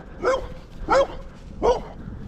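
A dog barks three times near an abandoned, overgrown graveyard. The barks are loud, close and evenly spaced with short quiet gaps between them.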